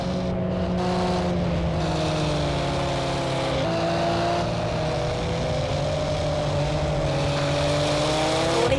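Group A race cars battle closely at Porsche Leipzig in Project Cars 2, several engines droning loudly together and shifting pitch through gear changes, with a steady mechanical roar and no talking.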